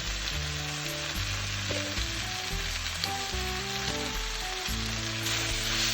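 A pot of kimchi stew with pork belly and tofu bubbles and sizzles close by while being stirred. The hiss is steady and constant, with low, irregular bubbling and scraping beneath it and no talking.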